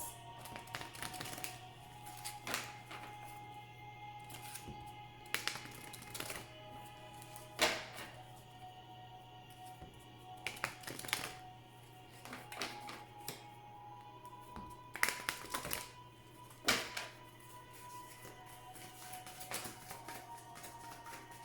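Oracle cards shuffled by hand in a quiet room, giving soft papery riffles and taps in irregular bursts over a steady low hum, with no talking.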